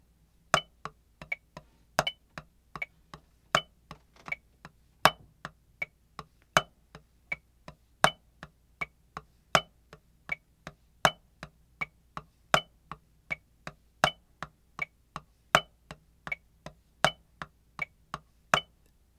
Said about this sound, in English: So let's look at this. Paradiddle.